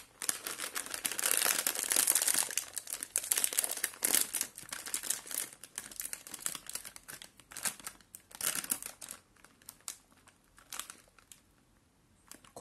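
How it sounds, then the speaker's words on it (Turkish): A plastic wrapper of Ülker sesame and black cumin crackers crinkles and tears open close to the microphone in busy, uneven rustles that fade to quieter handling toward the end. "Hadi paketi açalım bakalım nasıl bir şeymiş."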